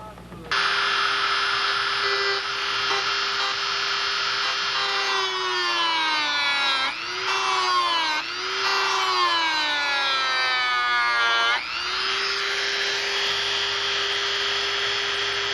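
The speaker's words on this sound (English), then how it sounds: "grind a little notch right in the push rod" A rotary grinder cuts a small notch into a metal push rod for model airplane flaps, a loud, steady high-pitched whine that dips in pitch several times as the wheel bites into the rod.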